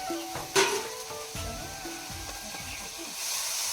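Meat frying with spices in a home kitchen pan: a soft, continuous sizzle and hiss with occasional stirring clatter and one sharper pop, moderately close, with faint background noise.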